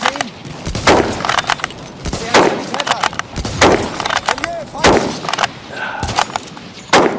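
Carcano scout rifle in Battlefield 5, a rapid string of sharp gunshots with bolt-cycling clicks between them, loud and close, mixed with other gunfire in the game.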